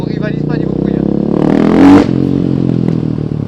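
A KTM 500 EXC-F dirt bike engine, close and loud, idling with a rough burble and then revving sharply in one short rising blip before settling back, with someone talking over it.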